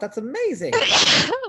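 A person sneezes once, sharply and close, right after a few words of speech during a class session.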